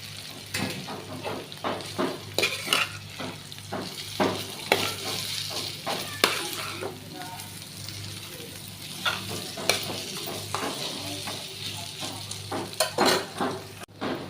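Food sizzles in a pan while a utensil stirs and scrapes it in irregular strokes, close by, with clinks against the pan and no voices.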